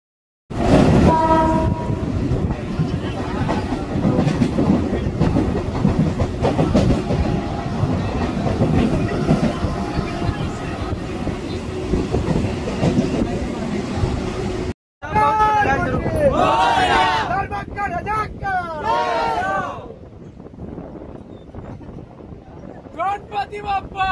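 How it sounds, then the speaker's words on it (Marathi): A Mumbai suburban train on the run from Thane to Curry Road gives a loud steady roar and clatter, and a horn blares. After a short cut comes a quieter stretch with voices and crowd noise. "ठाणेवरून पकडणार करिरोडची ट्रेन"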